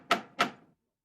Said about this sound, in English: Mr. Utterson stopped and knocked at the door of one of the houses